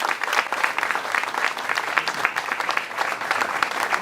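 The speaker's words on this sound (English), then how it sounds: "Please, a round of applause" Steady, dense applause from a sizable crowd at a hymn competition, clapping continuously at an even level from start to finish.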